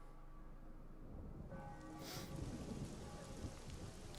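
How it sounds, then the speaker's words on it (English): Heavy rain in the fantasy strategy game Disciples 2, a faint hiss of falling rain that thickens partway through, joined by a brief rumbling swell like distant thunder. "That's just heavy rain."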